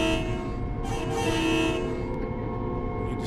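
A train horn sounds near a crossing in the Train Sim World 6 game: a couple of short toots over the steady, droning engine rumble, with no voices.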